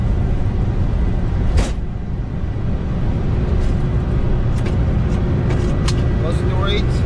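A Boeing 747-200 jet airliner, one of the few classic 747s still flying, takes off in a loud, continuous broadband roar heard from on board, with muffled cockpit voices over it.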